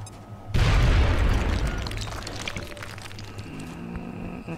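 A grenade explosion in X-COM Long War, a single loud boom that bursts in suddenly, then rumbles and decays with scattered debris sounds trailing off over several seconds.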